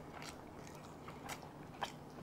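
A bite into barbecued pork ribs, soft and close, with faint crunchy crackles and a few brief louder snaps of chewing. No talk.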